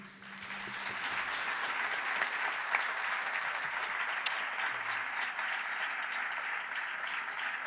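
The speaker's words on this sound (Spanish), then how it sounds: "Fuerte el aplauso." A live audience gives sustained, loud applause for a flamenco singer, steady dense clapping that fills the room from start to finish.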